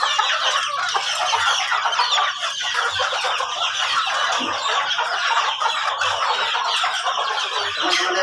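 Hungry village chickens crowd a coop in the early morning, a dense, continuous chorus of clucks and squawks from many birds close by, with no talk.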